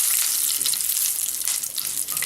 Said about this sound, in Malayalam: നമ്മുടെ കടുകും പച്ചമുളകും മൂത്തു.